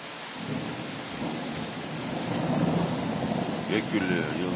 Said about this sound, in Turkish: Gök gürlüyor, yıldırım.